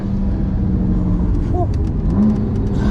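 BMW M2 Competition with Pure Turbos Stage 2+ and DCT gearbox, about 700 wheel horsepower, accelerating on a canyon road, a loud steady engine drone close by with a brief rising tone midway.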